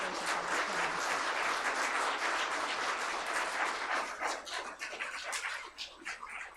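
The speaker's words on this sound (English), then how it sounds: "let's give Abel a big round of applause" Audience applause at an awards ceremony, a full crowd clapping steadily that thins into scattered claps near the end, with a faint dog-like whimper in the background.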